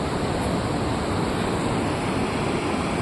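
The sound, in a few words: sea waves at Alassio, Liguria in October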